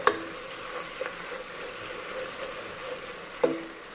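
Tomatoes sauteing in oil give a soft, steady sizzle, with a few sharp clinks of a spoon against the pan at the start, around one second and near the end, and no voices.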